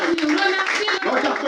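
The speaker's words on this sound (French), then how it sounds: "Acclame le Seigneur Jésus" Congregation clapping in praise during a French-language church service, heard as dense, steady rhythmic applause close by with singing or voices over it throughout.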